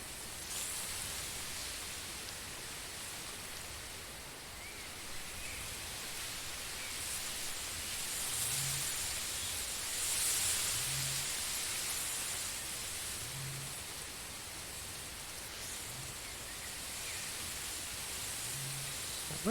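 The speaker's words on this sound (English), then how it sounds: "You can definitely hear the wind in the trees." Wind through trees in the fishing game Russian Fishing 4, a steady soft rushing noise that swells gently and fades, with faint low thumps now and then.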